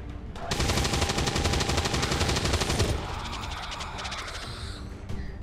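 Rapid automatic gunfire from XCOM 2 shreds an enemy's cover, a loud sustained burst of shots for a few seconds followed by a lingering, fading rumble of debris and echoes.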